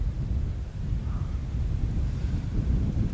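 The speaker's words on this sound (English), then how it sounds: "But it's so windy right now." Wind buffets the microphone of a drone over Mornington Crescent, London, in a steady low rumble, a constant muffled roar with no voices.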